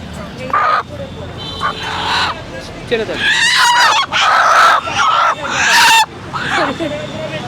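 Native chickens squawk and cluck loudly in bursts nearby at a market in Rampura, Dhaka, mixed with people talking over and between the calls.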